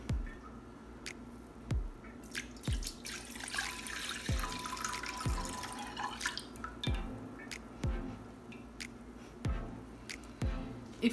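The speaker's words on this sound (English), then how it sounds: "we're gonna pour this mixture inside of here" Jello mixture pours into a container, with a steady liquid stream in the middle and sharp, regularly spaced drips landing close by throughout.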